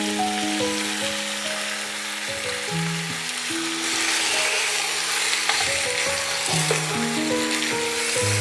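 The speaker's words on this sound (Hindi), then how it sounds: "दो से 3 मिनट तक मैं लहसुन अदरक के पेस्ट में इसको फ्राई करूँगी चिकन को" Chicken fries with garlic-ginger paste in a pan, with a loud continuous sizzle under steady stirring and a bright hissing texture throughout. A low droning hum runs underneath, and no voice is heard.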